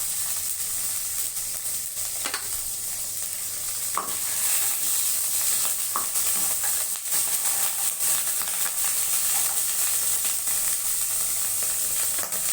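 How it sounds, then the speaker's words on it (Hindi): Butter and olive oil sizzle in a frying pan while brown fried rice is being made, a steady, close hiss and crackle that runs throughout with no one talking. "ये देखिए बटर डाला हमने, थोड़ा सा साथ में डालना है ऑलिव ऑयल"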